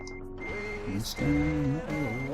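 Truck in Euro Truck Simulator 2 backing into a parking spot, a steady diesel engine rumble with changing revs, a high reversing beep tone running through much of it, and a short hiss of air near the middle.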